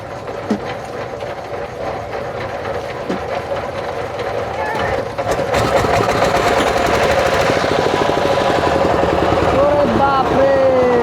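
Two boat engines run together on the Padma river near Rajshahi, a loud, steady mechanical drone with rhythmic chugging that grows louder and fuller midway as the second engine joins.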